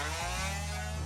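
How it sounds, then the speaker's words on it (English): A power sander works over the frayed edges of freshly cut 1x6 pine boards, giving a steady close buzzing drone that runs unbroken for about a second with a low hum beneath. "I'm gonna go ahead and take a sander and sand down all these little frayed edges."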